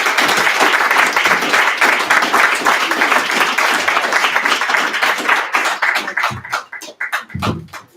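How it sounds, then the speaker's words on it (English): Audience at a spoken-word poetry night applauds a poet onto the stage, a dense wash of clapping that thins out toward the end into scattered claps and a few voices. "Clap him all the way to the stage, y'all"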